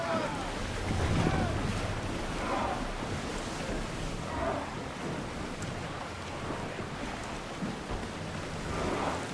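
A ship sails on the open sea in Assassin's Creed Odyssey, with steady rushing water, wind and surf washing around the hull under faint background voices.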